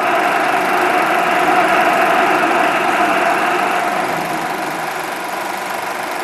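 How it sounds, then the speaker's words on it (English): An Atlas missile rocket engine roars through a static test firing, a loud, unbroken broadband rush held at an even level that eases slightly toward the end. "Two four-second firings were conducted to obtain data for evaluation of engine starting characteristics."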